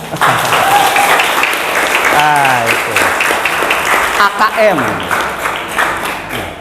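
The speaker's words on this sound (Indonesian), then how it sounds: "Boleh, tepuk tangan dong kita." Audience applause fills a mosque, sustained clapping from a crowd with a speaker's voice heard over it.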